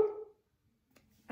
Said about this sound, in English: I have a dog barking.